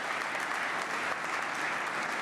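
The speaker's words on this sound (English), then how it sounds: "Let's give him a hand." An audience at a State of the State address breaks into steady applause for state commissioners, a dense, even patter of many hands clapping throughout a large hall, alone without speech.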